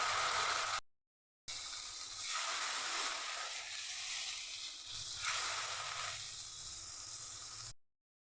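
Spice paste for a vegetarian banana flower dish sizzling and hissing in a pan, a steady broadband fry broken by a short silent gap, with no talking.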